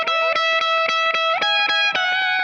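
Electric guitar played through a hall reverb pedal, plucked notes ringing in a steady rhythm and blooming into a wide, sustained wash, loud and alone.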